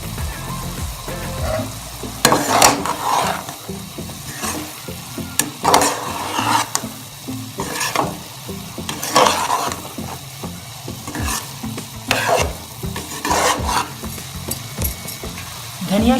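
A spoon stirs garam masala into daal mash cooking in a pot, with rhythmic scraping strokes every second or two over a continuous low sizzle, close and fairly loud.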